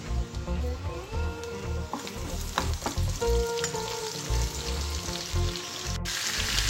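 Loud crackling sizzle of tempering seeds, garlic and curry leaves frying in hot oil, steady and close, with a few clinks of stirring.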